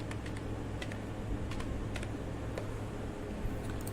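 Quiet typing on a computer keyboard while entering text into a document: scattered light key clicks in short irregular bursts over a low steady hum, with no talking.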